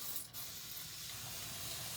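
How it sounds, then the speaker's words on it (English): A spray bottle spritzes water onto a watermelon craft tray with one brief hiss, followed by a soft, steady wash of noise close to the microphone. "And let's spray this."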